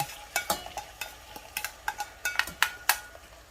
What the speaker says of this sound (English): once your oil is hot enough, you're going to put your onions in first